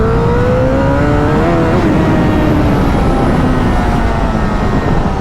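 A Honda CBR Fireblade 1000 superbike on Pirelli tires accelerates hard, its engine note climbing steadily under heavy wind roar, heard close from the rider's position for several seconds.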